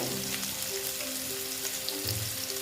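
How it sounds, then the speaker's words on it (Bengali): A steady, nearby sizzle comes from onions frying in a pan with sugar, the start of a Bengali bata fish jhal. The short, unbroken hiss carries light crackling and no voices. "পেঁয়াজটা ভাজা হচ্ছে"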